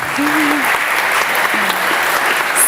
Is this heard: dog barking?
no